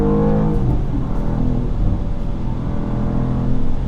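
A BMW M2 (G87) sports car engine hums steadily with a low, muted exhaust drone, continuous and fairly loud throughout, no voices.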